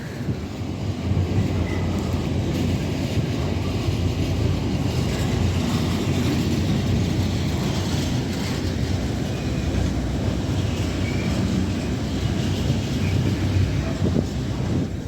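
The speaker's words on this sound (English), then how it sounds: "Train in the distance." A Grand Central passenger train from Sunderland to London King's Cross passes through Peterborough at a distance, a steady broad rumble with faint rail clatter and some wind buffeting throughout.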